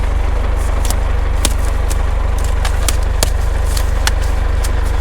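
A farm tractor engine idles close by on a vegetable farm, a loud steady low rumble with a few sharp clicks and taps scattered over it.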